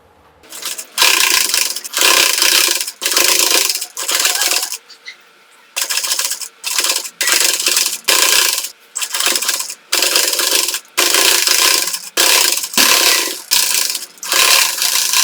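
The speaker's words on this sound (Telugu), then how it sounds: "లేస్ పైన ఇంకో స్టిచ్ వేస్తున్నానండి." Domestic sewing machine stitching lace along the back neck of a blouse, heard as loud mechanical whirring bursts of about a second each, stopping and restarting repeatedly with brief pauses between runs.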